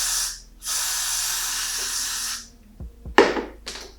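A spray bottle mists a 24-inch lace closure wig in two long, close hissing bursts, followed by a few soft handling taps and short rustling sounds.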